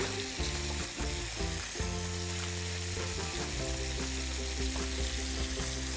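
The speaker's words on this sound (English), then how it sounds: "Okay, so now we got our lapchang and bacon cooking." Chinese lap cheong sausage and bacon frying in a pan, rendering their oil with a strong, steady sizzle and crackle, joined by low tonal hums and brief stirring sounds, no talking.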